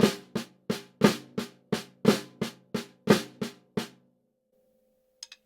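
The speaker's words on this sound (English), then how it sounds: "Okay, flam accent." A flam accent rudiment is played on a drum, giving about a dozen sharp, close strokes in a steady rhythm with regular accents. A brief faint tap follows after a pause.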